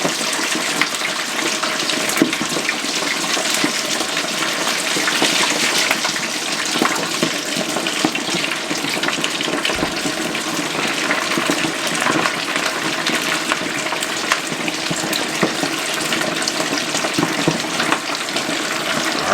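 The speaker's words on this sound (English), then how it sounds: "all I'm gonna do is just put these in this grease. I'm cooking this at 350 degrees" Chicken wings for honey chipotle wings frying in grease at 350 degrees, a steady loud hiss and crackle of bubbling oil that runs unbroken, with no voices.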